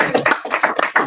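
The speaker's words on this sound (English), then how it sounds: "Really round of applause for the man that asked the question" A handful of close, loud hand claps from a small audience at a talk, sharp and slightly irregular, about five bursts in just over a second.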